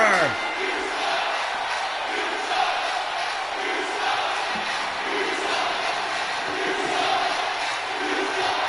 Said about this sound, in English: And this crowd doesn't like Crawford.